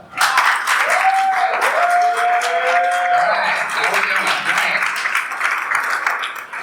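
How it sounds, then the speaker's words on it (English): An audience at a New York pitch night breaks into sustained applause, a continuous mass of clapping with cheering voices and a whoop mixed in, staying loud throughout. "let's give him a round of applause"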